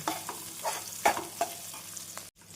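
Onions and vegetables sautéing in a pan for paneer fried rice, a crackling sizzle broken by several stirring scrapes and knocks, close and without talk, cutting out briefly near the end.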